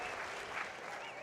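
Baseball stadium crowd at a college game, Minnesota versus Oregon State, applauding and cheering in a dense continuous wash of sound that holds steady throughout, fairly distant, with no talk over it.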